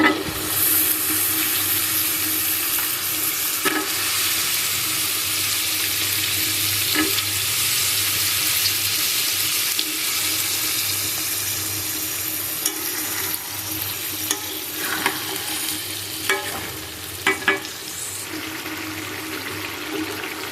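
Beef tripe and potato pieces are stir-fried in a pan, making a steady close sizzle throughout, broken by occasional spatula scrapes and stirring knocks, with no talking.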